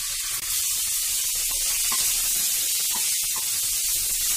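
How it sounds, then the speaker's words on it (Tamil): Chopped onions and tomatoes sauté in a pan for chana masala, giving a close, steady sizzling hiss with faint crackles and stirring sounds throughout. "வெங்காயம் தக்காளி ரெண்டுமே நல்லா வதங்கிடுச்சு."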